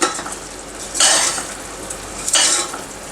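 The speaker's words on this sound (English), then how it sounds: "switch off the gas and keep stirring it again" Chhena murki sweet stirred in a pan after the gas is switched off, a spatula scraping the pan in two loud bursts over a faint background hiss, with no talking.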